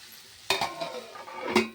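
A spoon stirring cabbage curry in a pan, two sharp scraping strokes with soft clinks and a faint sizzle between them, close and without talk.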